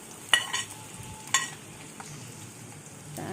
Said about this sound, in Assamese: এতিয়া পিঁয়াজ, জলকীয়া ভালদৰে ভাজি ল'ম। এতিয়া দিম আলু